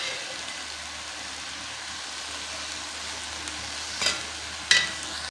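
Goat liver and gizzards frying in ghee with tomatoes, chilies and spices, a steady soft sizzle close by, with two brief louder bursts of scraping and spattering near the end.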